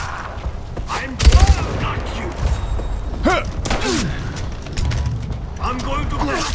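Mechanical clicks, ratcheting clacks and metallic thumps from a gun being reloaded in the shooter game Far Cry 4, set against busy gameplay noise, with voices talking in bursts over it.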